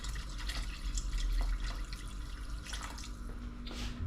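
A little water is poured into a cooking pot for a quick broth, heard as soft splashing and dripping close by over a low background hum, with no talk.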